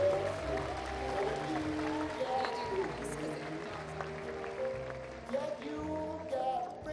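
Applause from an audience at a public memorial event in Orlando, a steady wash of clapping that fills the whole stretch, with music or tonal sound running beneath it.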